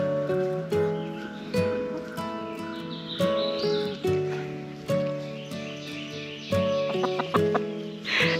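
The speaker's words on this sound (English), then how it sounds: "I'm just waiting for one of the chickens to like flap their wings and run off" Chickens clucking on a farm, a series of soft, fairly close clucks and calls repeating at an irregular pace over a quiet background.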